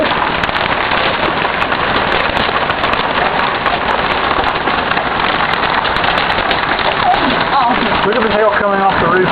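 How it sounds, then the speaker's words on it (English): Heavy hail pelting a roof and walkway, a dense, loud, continuous rattle close by with voices talking over it. "Look at the hail coming off the roof over there."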